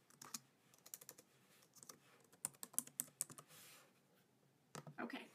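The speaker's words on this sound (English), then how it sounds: "This is hard to type with one hand." Someone types on a computer keyboard with one hand, producing irregular bursts of close, crisp key clicks with brief pauses between them.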